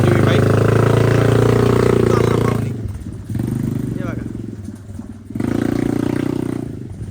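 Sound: ATV quad bike engine speeding

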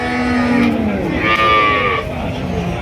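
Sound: Jersey dairy cow mooing

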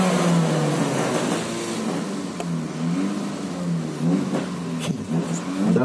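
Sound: Honda Jazz drag race car accelerating

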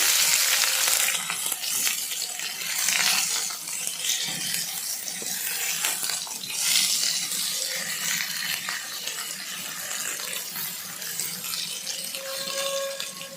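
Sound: potatoes frying in oil for biryani

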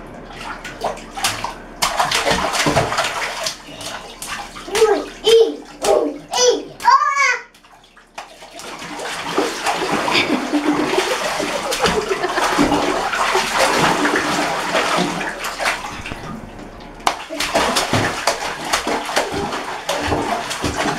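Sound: child kicking and splashing water in a bathtub

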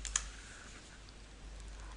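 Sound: computer keyboard shortcut Ctrl+A being pressed

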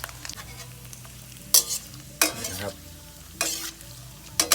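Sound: thin dried pork frying in a pan

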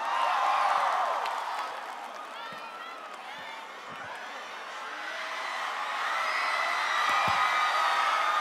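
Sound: audience applause at a concert

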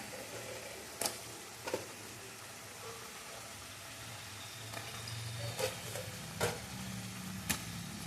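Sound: chicken frying in browned onions

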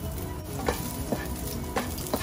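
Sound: garlic sautéing in a hot wok

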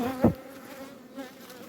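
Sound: honey bees buzzing at an open beehive

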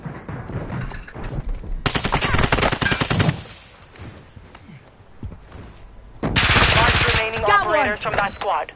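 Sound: gunfire from enemies in Modern Warfare video game

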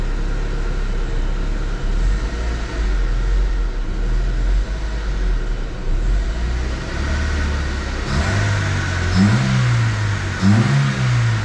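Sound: car engine revving

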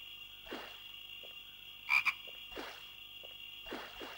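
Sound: frog croaking in the video game The Road to El Dorado

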